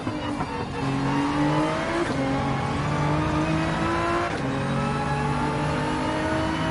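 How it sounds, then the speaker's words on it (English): Porsche 911 engine revving hard in the Gran Turismo 7 racing game, a loud continuous engine howl climbing through the gears with brief dips at each shift. "I like how you can rev out the 911 more than the GTR."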